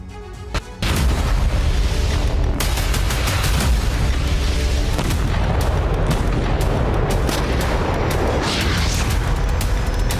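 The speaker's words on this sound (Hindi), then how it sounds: "हिजबुल्लाह ने इजराइल पर रॉकेट और मिसाइल हमले बढ़ा दिए" Rocket and missile explosions boom repeatedly in loud, dense succession over a continuous roar of blasts and crackling impacts, with no speech.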